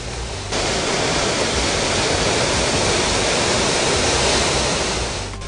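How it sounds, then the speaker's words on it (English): Broketut Waterfalls in Nigeria, fed by the river Matez in Jibam, pours with a steady, loud, broadband roar of falling water that holds evenly throughout. "This beautiful waterfalls has its source in the river Matez in Jibam."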